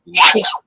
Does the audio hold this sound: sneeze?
yes